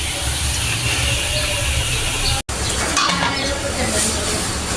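Okra (bhindi) stir-frying in a pan at home, a loud continuous close sizzle and hiss with a brief cut partway through, no voices over it.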